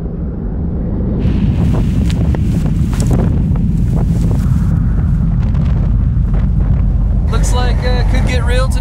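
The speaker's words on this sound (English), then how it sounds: "Snow, wind, and katabatic mayhem" Katabatic wind blows in Antarctica with a loud, constant roar and heavy buffeting against the microphone, and a voice speaks briefly near the end.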